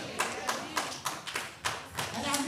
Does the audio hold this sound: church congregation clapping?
yes